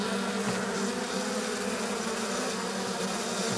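Honey bees at an open hive humming in a dense, continuous buzz, close and fairly loud throughout, with no talking.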